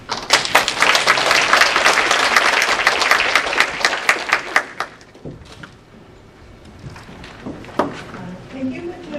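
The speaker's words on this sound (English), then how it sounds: "let's welcome and give a bigger applause for Professor Dr. Aya Yoshida." A lecture audience in Taiwan applauds to welcome Professor Aya Yoshida, dense loud clapping for about five seconds that thins into a few scattered claps and quiet room noise.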